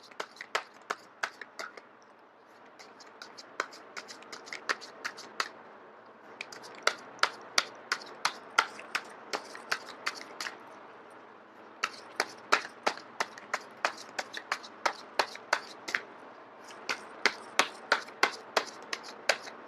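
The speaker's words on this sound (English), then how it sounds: "I am going to shuffle until the first card drops out." A deck of tarot cards being shuffled by hand makes quick bursts of crisp, close slapping taps in irregular rhythmic runs, separated by short pauses and with no talk.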